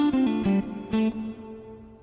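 Electric lead guitar played through effects, with quick pull-off phrases across the third, fourth and fifth strings: a short run of picked, sliding notes with reverb and echo that rings out and decays alone.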